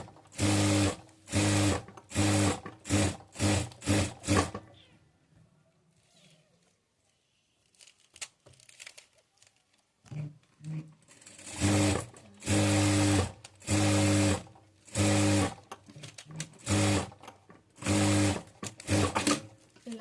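A sewing machine stitches blouse lining cloth in loud, close bursts, a rapid series early on, then a quiet pause with faint handling of fabric, before several more runs of stitching resume.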